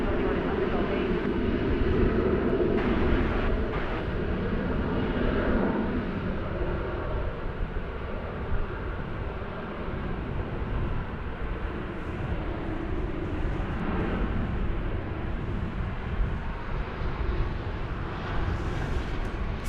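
An American Airlines Boeing 737-800 jet roars steadily at an airport for the whole stretch, a loud, continuous broadband engine rumble that swells and eases slightly.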